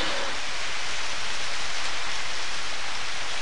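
Steady rain hisses continuously in the Harvest Moon Back to Nature video game, an even wash of falling drops with no other sounds.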